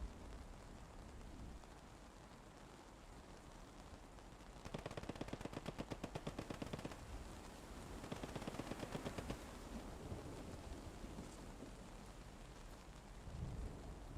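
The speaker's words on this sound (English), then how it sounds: "A little bit of machine gun fire." Machine gun fire in the World War II shooter Post Scriptum during a realism event: two rapid bursts of distant automatic fire over a constant hiss resembling rain, with no voices.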